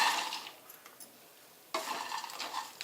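Roasted dry fruits stirred into a makhana chivda mix, a close, dry scraping and rustling of a spoon through the mixture in two bursts separated by a short quiet pause.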